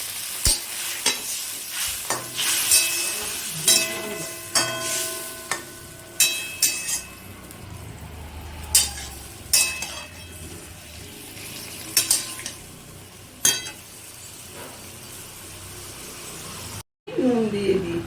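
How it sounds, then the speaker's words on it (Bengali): Vegetables with a little water added are stirred in a pan, with repeated spoon scrapes and clinks against the metal over a soft background sizzle, and a brief gap just before the end. "অল্প জলও আমি এখন দিচ্ছি, দিয়ে এটাকে ভালো করে নাড়িয়ে"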